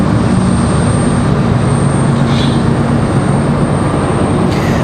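Air Wisconsin airliner departing Raleigh-Durham International, a loud continuous jet engine rumble with a steady tonal whine running throughout, close and unbroken.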